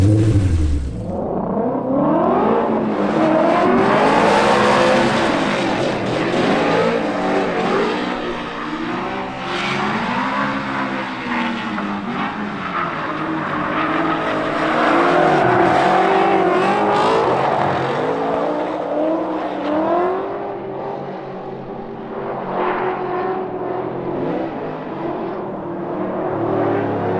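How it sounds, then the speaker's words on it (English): Pro 1 RTR Mustang drift car sliding through transitions, its engine revving and wailing with rising and falling pitch, tyres squealing, loud and continuous throughout. "So I'm gonna try to really slow down the transition and get the car to do what I want."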